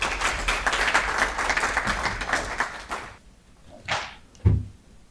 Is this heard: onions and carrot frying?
no